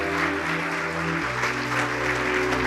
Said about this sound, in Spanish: Si el aplauso para Jesús, que tus manos se quemen y ardan